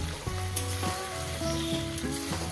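Bele fish frying in oil with potato and onion while being stirred in the pan, a continuous close sizzle with intermittent scraping and clinking of the stirring utensil, no voices.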